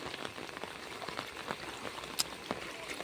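Steady rain patters over a waterlogged farm field, a soft continuous hiss broken by scattered louder drops and one sharp splash near the middle, heard alone with no talking.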